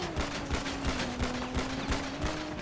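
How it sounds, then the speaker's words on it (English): Rapid automatic gunfire crackles in steady bursts during a GTA 5 roleplay shootout, fairly close and sustained with a faint tone underneath. "Oh, I'm being shot at."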